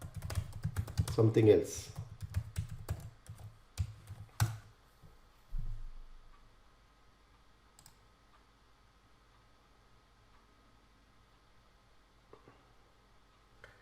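Someone types a username and password on a computer keyboard, producing a quick burst of clicky keystrokes under a brief spoken remark, then a few sparse taps before near silence.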